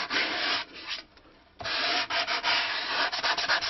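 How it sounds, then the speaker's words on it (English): Light sanding around the edge of a wooden stick dulcimer soundboard, close scratchy rubbing strokes in quick bursts with a short pause near the middle, quiet and alone. "if we just sand lightly around here"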